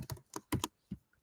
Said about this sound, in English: you can see as I'm typing